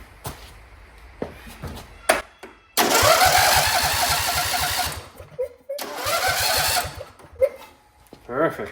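The Briggs V-twin engine of a John Deere LA120 lawn tractor cranks over on its starter in two loud bursts of rapid, rhythmic chugging, with short clicks and pauses between them and no sign of it firing.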